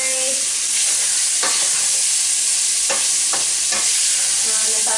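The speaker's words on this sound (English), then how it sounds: "I'm going to keep stirring, keep things from sticking" Tofu stir fry sizzles loudly in a pan on medium-high heat, with several distinct scraping stir strokes cutting through the constant frying hiss.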